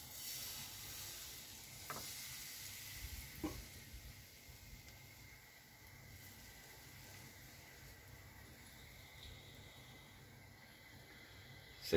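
Food fries in a very hot pan, giving a faint, steady sizzle throughout with a couple of brief sharper crackles and no talking.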